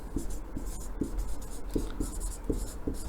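A marker or chalk writes on a board during a chemistry lesson on Boyle's law, making short, close strokes and taps in an uneven rhythm, with no talking.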